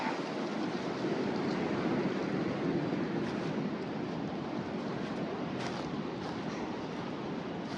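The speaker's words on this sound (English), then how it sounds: "It is super windy today." Strong wind buffeting the microphone on a hilltop, a constant loud roaring rush with gusty swells and no speech.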